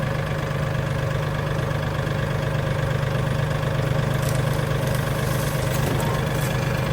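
A Mahindra 1635 tractor engine runs in low gear, a loud, steady, droning rumble that holds throughout without pause.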